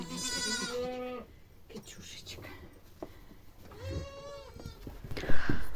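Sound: goats bleating

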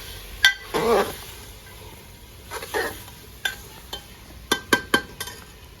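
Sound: onions being stirred and fried in a pan

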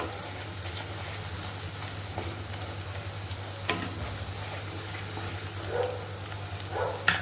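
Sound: stirring and mixing gravy in a pan

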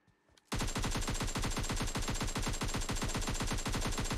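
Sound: gunfire in PUBG Mobile video game

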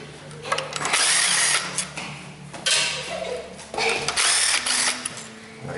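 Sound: ratchet removing 10mm valve body bolts, Toyota Camry

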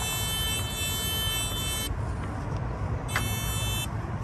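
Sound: water level meter probe beeping in a well

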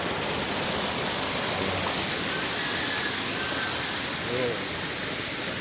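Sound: water flowing out of concrete canal

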